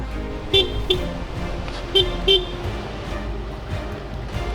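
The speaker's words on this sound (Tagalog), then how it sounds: "Alagay, blow your horn." Four short car horn toots, two close pairs, sounding over a steady engine and road rumble.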